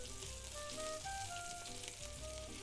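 Chicken pieces frying in hot oil in a pan, giving a steady close sizzle and crackle throughout with no talking.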